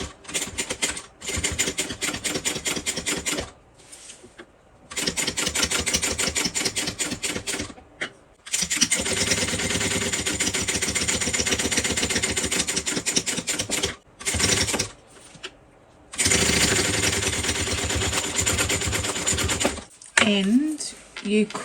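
A sewing machine topstitches a bag in long, rapid, steady runs of mechanical stitching, broken by short pauses, close and fairly loud.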